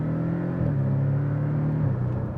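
A Porsche Cayman S four-cylinder boxer engine revving, a loud, close, steady throaty hum that rises and dips in pitch over a couple of seconds, with no talking.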